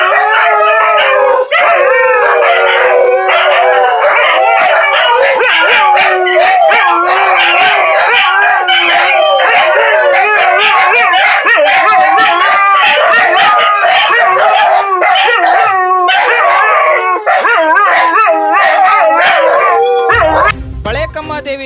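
A pack of village dogs in front of a temple at midnight barks and howls loudly and continuously, overlapping yips, whimpers and long wailing howls close by, confronting thieves.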